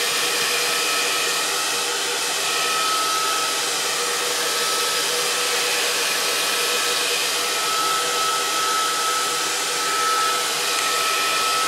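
An old handheld blow dryer from hairdressing runs at full power while a journal cover is being made, giving a loud, steady, unbroken whooshing roar close to the listener for the whole stretch.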